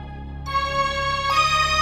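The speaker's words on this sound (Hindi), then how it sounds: "तभी पापा का फोन आ गया।" A phone ringtone plays as a sustained electronic melody with bright, steady tones that rise in pitch partway through, loud and clear over a soft low hum, with no talking.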